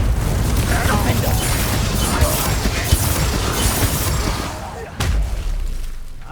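A Confringo spell explosion in Hogwarts Legacy: a rumbling burst of booms and crackling debris over game noise and voices, then a sharp blast at about five seconds that fades off.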